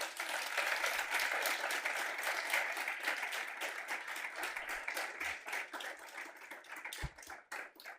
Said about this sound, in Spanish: quiero que le demos un aplauso a Mariela